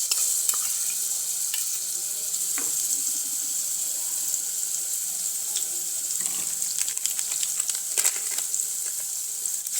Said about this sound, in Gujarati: તેલ આપણે ગરમ થઈ ગયું છે તો તેમાં વઘાણી ઉમેરી દઈશું અને તેની સાથે આપણે આ આદુ મરચાં અને લસણની પેસ્ટ છે